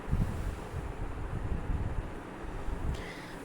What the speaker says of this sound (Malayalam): നല്ല കാറ്റുള്ളൊരു ഏരിയ ആണ് കേട്ടോ ഇവിടെ.